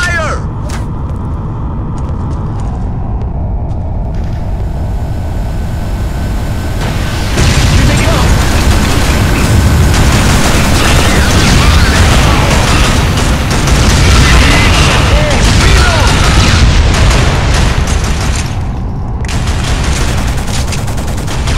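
Sustained gunfire and booming explosions from a PS2 Killzone campaign battle against Helghast forces, a dense continuous roar of shots and blasts filling the scene, with shouted voices over the combat.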